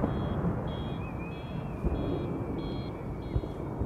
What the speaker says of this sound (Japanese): でこの音に反応してね、盗難防止の車の音が丘で鳴ってます